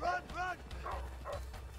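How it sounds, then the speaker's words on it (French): Dogs bark in the video game A Way Out, several short barks in quick succession heard at a moderate distance, with a person talking over them. "Oh, oh non, il y a les chiens."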